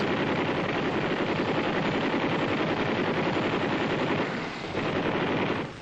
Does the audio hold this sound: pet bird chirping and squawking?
no